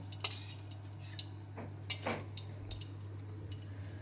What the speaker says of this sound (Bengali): ওই ঘিয়ে আমি যে রেস্টে রেখে দিয়েছিলাম মাখানো গোবিন্দভোগ চাল, সেই চালটা আমি আবার দিয়ে দেব